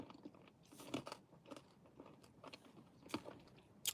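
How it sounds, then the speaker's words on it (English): A lemon sherbet hard sweet is crunched and chewed close up, with irregular brittle cracking bursts and softer mouth noises between them, fairly quiet overall. "I'm going to chew this now. It's going to get crunchy."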